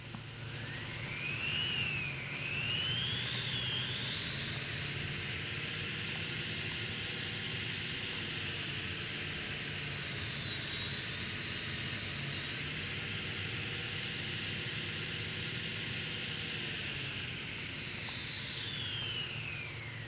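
Continuous engine drone with a high turbocharger whistle rising and falling in pitch as revs change, steady and prominent, no talking, from a SimplePlanes vehicle in a video game.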